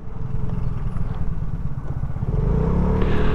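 A Vespa GTS 125 Touring scooter rides along on a test drive, its engine a steady low drone mixed with wind rush that grows slightly louder toward the end.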